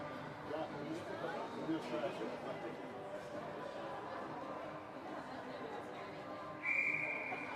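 A referee's whistle cuts through crowd chatter at a U16AA ice hockey game, one sharp, fairly loud blast near the end of murmuring talk in the arena.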